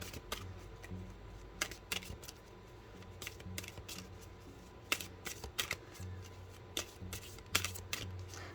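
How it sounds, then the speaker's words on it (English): Tarot cards being shuffled by hand, with soft repeated riffles and sharp snapping taps at an uneven rhythm, quiet and close. "let me shuffle these real quick"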